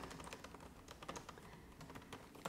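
Steady typing on a computer keyboard while filling in an invoice in QuickBooks Online, a quick, even patter of faint key clicks with no voices.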